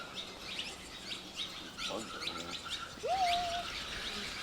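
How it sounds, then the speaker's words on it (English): Birds chirp inside a cenote in Tulum, giving short high tweets and a clear rising whistled call over a hazy, echoing background. "Oh no, those are birds."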